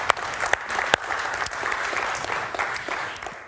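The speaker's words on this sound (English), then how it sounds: "Just a round of applause." Steady applause from an audience, a dense wash of clapping with a few sharper claps standing out, sustained throughout at moderate loudness.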